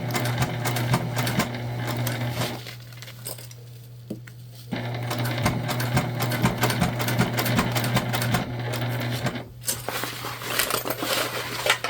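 A Juki sewing machine stitches a structured tote bag with a steady, close mechanical whir. The whir slows and dips briefly mid-way as the fabric pivots, then runs on again with a short pause near the end.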